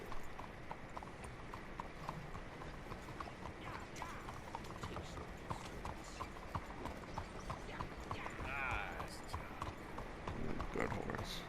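Horse hooves clip-clop in a steady walking rhythm in Red Dead Redemption 2, heard through busy game ambience and background chatter, with a brief whinny-like call late on.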